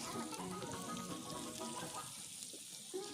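Onions being fried in oil in an outdoor cooking setting, a steady close sizzle with watery crackle that runs continuously, with no talking.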